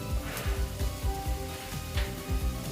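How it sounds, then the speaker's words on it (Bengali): Poppy seeds frying in a little white oil for a vegetarian chechki with bitter gourd, potato and pumpkin give off a steady, soft, close sizzle with faint recurring low thumps, and no one speaks. "দিয়ে পোস্তটা আমি ভেজে নিচ্ছি তেলটা"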